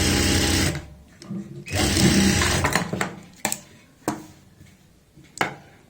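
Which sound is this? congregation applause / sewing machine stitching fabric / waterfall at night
sewing machine stitching fabric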